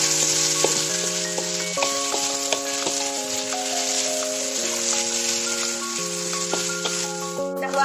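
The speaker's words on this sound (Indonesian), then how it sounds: "langsung di tumis aja ya bumbunya" Spice paste stir-fried in a pan for a sea snail dish, a steady loud sizzle throughout with light stirring scrapes, while music plays over it.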